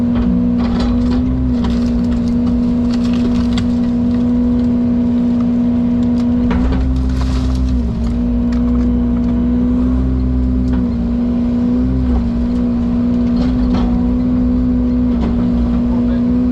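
An excavator engine loading a pile of rubbish during demolition-type work, with a loud steady diesel drone throughout, brief revs as the load rises, and scattered clanks and scrapes of debris over it.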